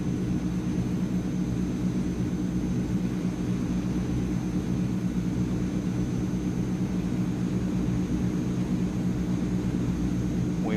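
Steady, continuous drone of a Transall C160's twin engines in Microsoft Flight Simulator, a dense low rumble that holds even and unbroken during an approach, with no voices over it.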